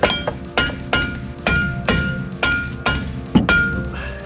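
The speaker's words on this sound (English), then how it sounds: "Let's try a bigger hammer." Repeated heavy hammer blows strike the metal body of a 1991 BMW 318i E30 at a steady pace, about ten ringing clanks close up, each one decaying before the next.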